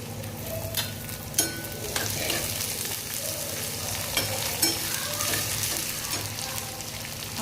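Garlic hits a hot pan with peanuts already frying, producing a steady close sizzle punctuated by sharp spatula scrapes and knocks at irregular intervals, no voice present.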